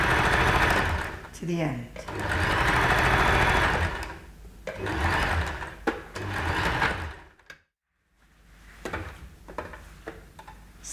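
Sewing machine stitching a Mondrian dress fabric along a curve, fast rhythmic whirring runs close and loud in several bursts separated by short pauses and a brief silence, with someone talking over it.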